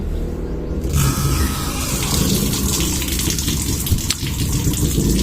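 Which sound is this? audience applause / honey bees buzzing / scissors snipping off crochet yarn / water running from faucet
water running from faucet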